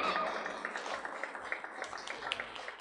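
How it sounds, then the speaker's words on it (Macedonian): Audience applause at a Macedonian folk dance ensemble's concert in Ohrid, a dense steady patter of many hands clapping through the whole stretch, fairly distant and moderately loud. "Уште еднаш аплауз и честитки за 30 години успешно постоење."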